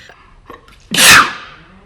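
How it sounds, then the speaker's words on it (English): A single loud sneeze bursts out after a short quiet intake of breath, close and sharp, then fades quickly. "I have to sneeze. I have to literally sneeze."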